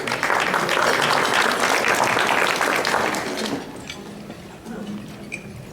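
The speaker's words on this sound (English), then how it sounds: "Give him a round of applause, everybody." Audience at a university alumni scholarship luncheon clapping loudly for about three and a half seconds, then the applause thins and fades to a few scattered claps and room noise.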